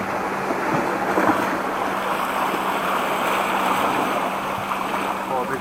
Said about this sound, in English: What a big wave that was.